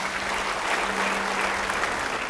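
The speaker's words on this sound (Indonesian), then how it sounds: "Beri tepuk tangan bagi dia" Church congregation applauding during a sermon, a dense, even roar of many hands clapping that holds steady throughout, with a faint low hum underneath.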